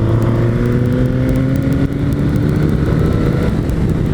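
A 2006 Suzuki GSX-R K6 1000 sport bike engine revs loudly and close up while riding, its pitch climbing steadily through the gears with a brief dip at a shift.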